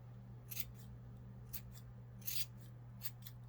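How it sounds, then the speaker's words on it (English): Sharp scissor snips trimming a yarn pom-pom, several separate cuts spaced irregularly over a steady low hum, quiet and close. "I give it a little shake and then I go back in to see where I need to cut again."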